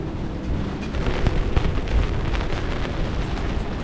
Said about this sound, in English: I don't know what the wind speeds are, but they're pretty intense and we are whipping around